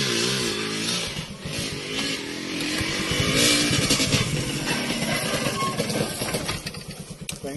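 Enduro motorcycle engine running close by at a first enduro class, a steady buzzing idle that swells into revs midway and then settles, with a few faint voices underneath.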